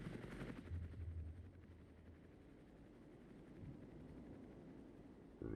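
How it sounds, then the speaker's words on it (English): Helicopters in the Armored Brigade war game: a steady, low, throbbing rotor rumble that runs the whole way through at moderate distance, with no one talking over it. "Helicopters."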